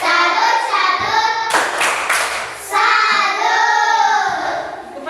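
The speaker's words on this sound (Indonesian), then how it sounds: "Sekarang kita tepuk salut untuk kelompok 1 dulu. Tepuk salut." A classroom group claps a rhythmic salute chant for the first group of students, loud, close, steady hand claps with a brief burst of stronger clapping in the middle.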